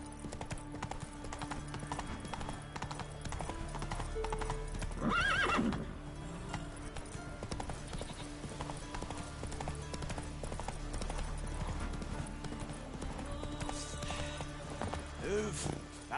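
A horse gallops in The Witcher 3 with rhythmic hoof clip-clops and a sharp whinny partway through, while someone talks over the game sounds.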